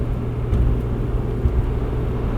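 A 230hp V6 engine in a Mazda Miata drones steadily at low revs while cruising, a constant close rumble with no voices.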